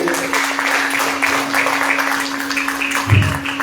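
An audience at a Marathi stage program breaks into applause, a steady wash of clapping with a faint constant hum underneath and a low thump near the end.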